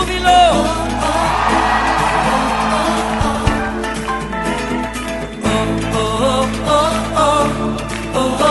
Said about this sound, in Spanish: ¿Cuántos pueden dar un buen grito de júbilo?